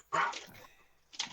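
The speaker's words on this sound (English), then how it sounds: "Dog is going mental." A dog barks sharply twice, close by, with a short yip-like call between the barks on an otherwise quiet background.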